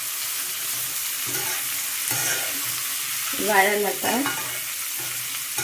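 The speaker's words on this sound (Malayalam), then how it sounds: "സവാളയും പച്ചമുളകും കൂടെ അരിഞ്ഞ് ചൂടായ എണ്ണയ്ക്കകത്തോട്ടിടുക. ഇത് നമുക്ക് വഴറ്റി വെക്കാം." Chopped onion and green chilli sautéing in hot oil for a chicken curry, a continuous close sizzle with scraping stir strokes and a brief clatter of the spoon against the pan in the middle.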